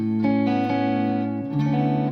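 Sustained distorted electric guitar notes ring out through an MXR Carbon Copy Mini delay pedal, a repeating echo trailing behind them, washing into a reverb-like tail; no voices.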